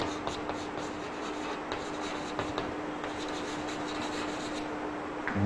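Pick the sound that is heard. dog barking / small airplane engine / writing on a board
writing on a board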